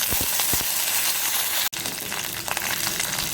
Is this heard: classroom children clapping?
no